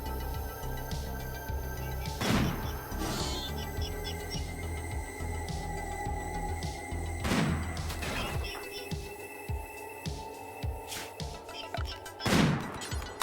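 Gunfire at enemy Lancers during target practice in the rain in the video game RimWorld: a few sharp shots spaced several seconds apart over a steady background.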